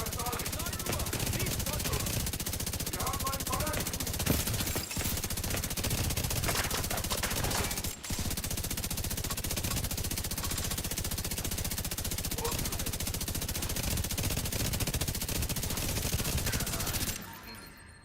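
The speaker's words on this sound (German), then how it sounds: "Die Schüsse wird wohl jeder hören" Sustained automatic gunfire from a firefight in the video game The Division 2, dense rapid bursts running almost continuously at steady loudness, with a brief pause near the middle before cutting off at the end.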